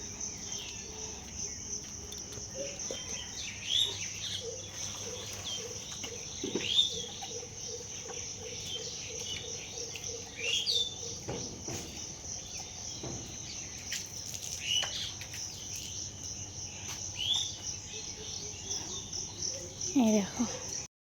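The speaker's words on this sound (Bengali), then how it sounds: "পাখিরা কিচিরমিচির করছে।" Morning birds give faint, scattered chirps every few seconds at a village house, over a constant high insect trill and low background murmur.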